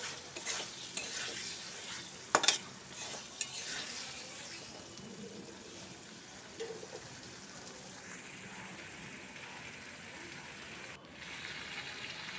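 Potato and spices sizzle in oil in a pan while being stirred and sautéed for a curry with ridge gourd and shrimp; a soft steady frying hiss with occasional spoon scrapes and clinks, fairly quiet, no talking.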